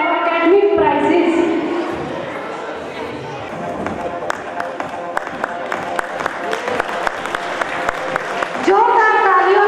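A school crowd at an annual function prize giving breaks into steady applause that swells and fades, with a speaker's voice before and after the clapping.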